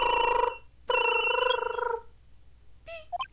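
A telephone in the Ace Attorney video game rings twice in close electronic bursts, followed by a pause and a few short, higher beeps.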